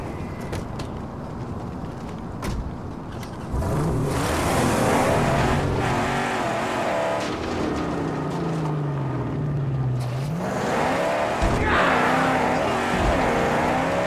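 A car engine in the Mad Max video game, revving and surging loudly with rising and falling pitch sweeps, mixed with rumbling game effects throughout.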